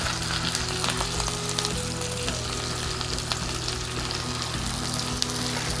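Pecan-breaded chicken breasts sizzling and frying in a pan, a steady close crackle with a few brief clinks from the cookware, no voices.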